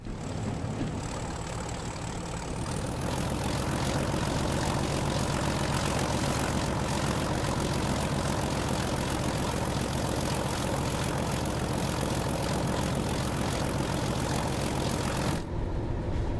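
A diesel train engine thrashing hard on the Tees Valley Line in Train Sim World, a loud, steady drone with a high whine rising early, held unbroken for about fifteen seconds before cutting off.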